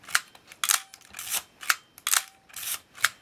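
A Nikon FE film camera's shutter fires repeatedly, seen from inside the body with the back open, giving sharp mechanical clicks and snaps in close succession, loud and alone with no talking.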